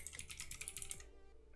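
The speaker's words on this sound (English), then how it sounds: "My keyboard is awesome, thanks." Quick, irregular clatter of keys on a computer keyboard, a dense burst of close taps lasting about a second before falling quiet.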